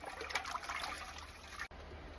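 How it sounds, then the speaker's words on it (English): Water sloshing and trickling as a blender is rinsed out in a kitchen while cooking albóndigas, a soft steady splashing with a brief break near the end, quiet and without talk. "We're also going to rinse our blender with some water to get all everything out of it."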